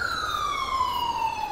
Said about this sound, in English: Oh, that's a cop car.